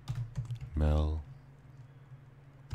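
Typing on a computer keyboard: a few faint, quick key clicks at the start and end, with a single spoken word in between.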